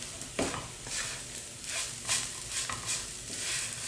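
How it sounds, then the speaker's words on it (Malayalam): Kappa upma with grated coconut being stirred and mixed in a pan, giving scraping, shuffling strokes at an uneven rhythm over a soft sizzle, close and alone with no voices. "എല്ലാം കൂടെ വീണ്ടും നന്നായിട്ട് മിക്സ് ചെയ്യുക."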